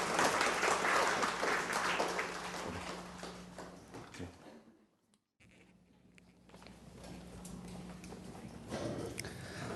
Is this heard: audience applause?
yes